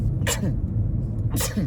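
Two short sharp sneezes about a second apart, close to the mic over a low steady hum of background music in a podcast setting.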